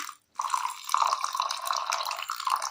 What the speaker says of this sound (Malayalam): ഇതിലേക്ക് ഒരൽപ്പം വെള്ളം കൂടി ചേർത്ത് കൊടുക്കാം.